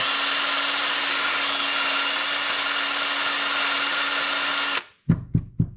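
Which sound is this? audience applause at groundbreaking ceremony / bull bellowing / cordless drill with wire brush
cordless drill with wire brush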